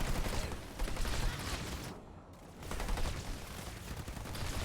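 Rapid gunfire erupts in the Halo Wars 2 strategy game as exposed sniper units are shot at, a dense continuous rattle of shots that dips briefly midway and then resumes at full intensity.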